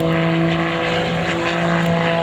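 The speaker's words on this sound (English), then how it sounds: "Rolls that airplane around in a snap roll sequence right out here off Airshow Center." A Prometheus-engined aerobatic airplane roars steadily and loudly through a snap roll sequence at an airshow, its propeller drone holding a constant, strong pitch throughout.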